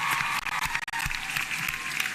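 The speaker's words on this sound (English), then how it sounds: "Can you give a clap to the University Council and Professor Kenyatta?" Crowd at a university graduation ceremony applauds the council and a professor, a broad steady roar of clapping with a brief dip midway, fairly distant and uniform.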